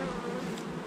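Bees fly around a beekeeper in gloves during an afternoon at the hive, giving a faint steady buzzing drone with no voices.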